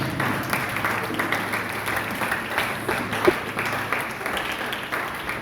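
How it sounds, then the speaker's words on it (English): Audience applause at a college career day event, a steady wash of many hands clapping throughout, moderately loud with no clear voices over it. "a round of applause for us."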